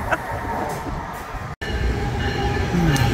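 A train rolls past at a station with a continuous rumbling roar and faint wheel noise, steady and fairly close, with no talking.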